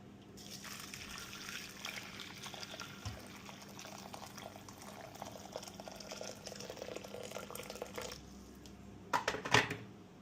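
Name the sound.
pouring hot water onto red lentils and stock cubes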